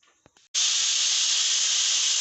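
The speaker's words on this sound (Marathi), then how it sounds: "अशी 1 शिटी झाली ना की आपण गॅस बंद करून टाकायचा." A pressure cooker on a gas stove, cooking chicken, vents steam in a loud, steady hiss that cuts in abruptly after a few faint knocks and holds at full strength, close by.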